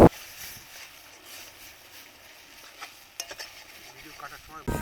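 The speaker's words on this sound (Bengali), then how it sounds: "তখন ওই চোস্তাটা ভিতরে নিয়ে কষাতে হবে।" Mutton chusta stirred and sautéed in oil with ginger, onion, garlic and spice paste, faint sizzling under intermittent spoon scrapes and clinks against the pot, with a sharp knock at the start and end.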